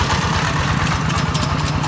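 A small 4-horsepower Kubota or Yanmar engine idles steadily up close, a loud, even low-pitched chug with a regular pulsing beat and no voices.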